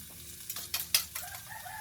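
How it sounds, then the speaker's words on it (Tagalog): Egg stirred into bitter gourd frying in a pan, a soft sizzle under a few sharp scraping spoon strokes, quiet and close. "lagay na natin yung itlog."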